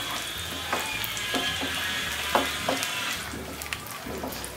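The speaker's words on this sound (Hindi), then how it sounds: "किशमिश भी ऐड कर दिया और एक दो मिनट किशमिश को भी फ्राई कर लेती हूँ।" Raisins frying in hot ghee for carrot rice kheer, a steady close sizzle with occasional soft stirring clinks and taps over the top.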